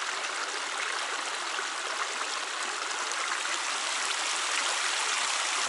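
Meltwater runoff flowing in a stream on a day just above freezing, a continuous broadband rushing and gurgling of water, close and steady, with no voices.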